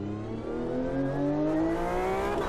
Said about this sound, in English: Automobilista 2 first in the Porsche 911